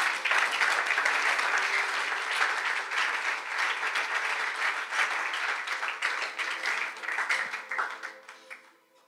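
Congregation in a French-speaking church service gives a sustained round of applause and clapping, full and lively at first, then thinning and fading out toward the end.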